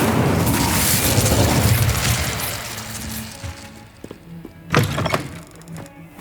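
Fire spell cast in the Hogwarts Legacy video game: a loud roaring, crackling burst that fades, followed by scattered thuds and a couple of sharp impacts.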